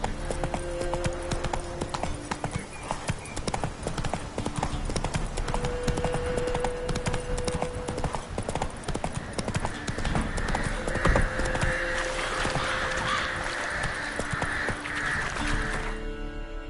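Roach, Geralt's horse in The Witcher 3, gallops with a rapid, continuous clatter of hooves, close and loud, over layered game music and ambience.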